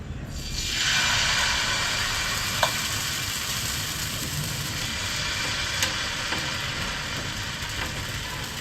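Ragi (nachni) bhakri flatbread cooking on a pan over a low gas flame, giving a steady, fairly loud broadband sizzle and hiss that holds for several seconds with a few faint clicks and taps.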